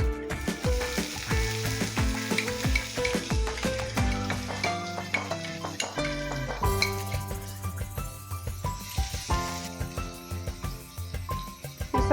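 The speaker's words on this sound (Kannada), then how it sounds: "ನಾನು ಒಂದು ವಾಟಿ ಉಳ್ಳಾಗಡ್ಡಿ ಸಣ್ಣದಾಗಿ ಕಟ್ ಮಾಡ್ಕೊಂಡು ಹಾಕ್ಕೊತೀನಿ." Finely chopped onions and cumin seeds fry in hot oil over a medium flame, giving a continuous close crackling sizzle with occasional light clinks from stirring.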